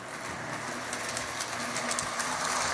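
A Lionel O-27 gauge toy electric train runs along its track with a continuous whirring rumble and faint rhythmic clicking, steady and close, no voices.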